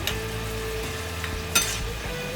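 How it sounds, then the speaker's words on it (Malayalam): Cashews and raisins fry in a tablespoon of ghee for a Kerala-style mutton stew, giving a soft, steady sizzle with a brief stir or clink. "1 ടേബിൾ സ്പൂൺ നെയ്യ് ഒഴിച്ച് കുറച്ച് അണ്ടിപ്പരിപ്പും മുന്തിരിങ്ങയും കൂടി"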